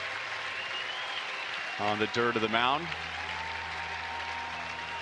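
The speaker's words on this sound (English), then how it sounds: "a standing ovation from the crowd" A stadium crowd at a Major League Baseball game gives a standing ovation during a ceremonial first pitch, a steady wash of clapping and cheering throughout as a commentator briefly speaks over it.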